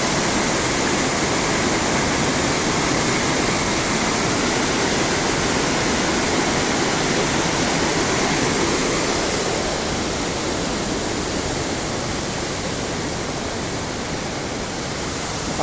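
A powerful waterfall in Palawan with a strong rushing current roars as a loud, dense, continuous wash of water, steady from start to finish with no voices.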